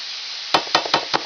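Cabbage and noodles frying in a pan for a low-fat Hungarian recipe: a steady close sizzle with four sharp knocks of a utensil stirring and scraping against the pan, and no talking.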